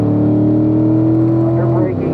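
Corvette C7 Z51 V8 accelerating hard through the gears to fourth on a racetrack, a loud close-up steady engine drone that rises in pitch and briefly dips at a shift near the end.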